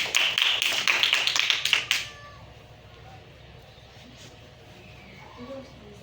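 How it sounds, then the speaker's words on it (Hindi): A group claps loudly in a Sunday school class, a rapid burst of sharp claps lasting about two seconds, followed by a quiet room with faint background noise. "जोरदार क्लैपिंग"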